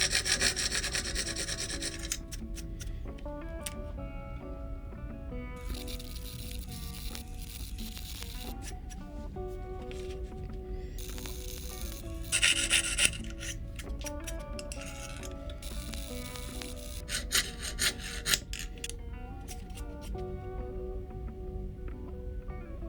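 A handmade iron keyhole saw with a coarse blade cuts through material in long rasping strokes, a repeated rough scraping that swells and fades with each pass, close and moderately loud, with no voices.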